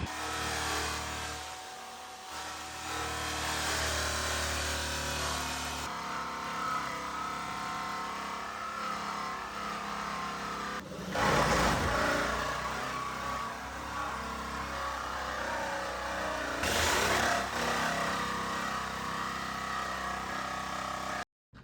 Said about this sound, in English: The jigsaw also makes it a much cleaner cut.